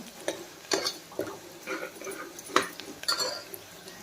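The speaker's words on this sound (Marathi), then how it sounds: "कांदा आपल्याला दोन ते तीन छान तेलावर परतून घ्यायचा आहे" Onions are sautéed in oil in a pan, with a soft sizzle under intermittent scraping and clinking of a spoon stirring against the metal, fairly quiet and close.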